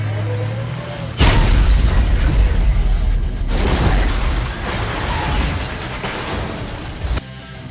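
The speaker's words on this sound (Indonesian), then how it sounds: "ia terkena tembakan peluru rudal yang sangat keras" A sudden loud missile-strike blast erupts on a bridge in a film, followed by rumbling debris and crashing noise, then a second heavy impact before it cuts off abruptly.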